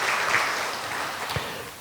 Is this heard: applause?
yes